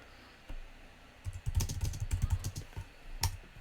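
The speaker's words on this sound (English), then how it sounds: "That's Pete typing loud and clear." Rapid clicking keystrokes on a computer keyboard, irregular bursts of typing heard close and fairly loud against a quiet background.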